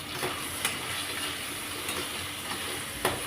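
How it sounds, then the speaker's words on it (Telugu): Paneer curry frying in a pan with turmeric, chili powder and salt, a steady close sizzle with a few light stirring scrapes and clicks throughout. "ఇందులో ఇప్పుడు కొంచెం పసుపు కారం సాల్ట్ వేసుకొని ఫ్రై చేసుకుందాం"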